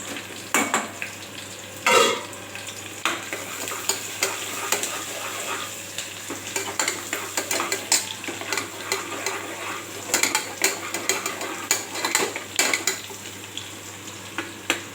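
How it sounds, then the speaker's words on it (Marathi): Onions sautéing in a pan with oil, cumin and bay leaf, a continuous sizzle broken by frequent clinks and scrapes of a spoon stirring against the metal pan, close and busy throughout. "असं मस्त कांदा परतून घ्यायचा"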